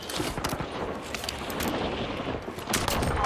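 Rapid gunfire from the Warzone video game, a dense fusillade of shots crackling steadily through the whole stretch without any talk over it.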